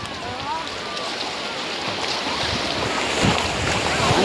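Sea waves at a beach roll in as a steady, loud, broadband wash, with wind buffeting the microphone throughout.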